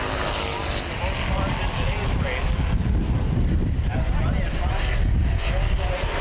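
Street stock race cars on the asphalt track at Baer Field Speedway during a CRA race, a dense, continuous engine roar with wind buffeting, under a commentator's voice.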